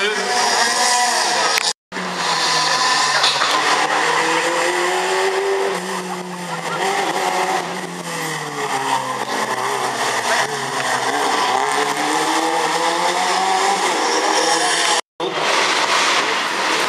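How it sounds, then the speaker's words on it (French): A Renault Twingo R2 rally car roars past on a rally stage, its engine loud and sustained with rising revs, while a commentator talks over it. "la Renault Twingo R2."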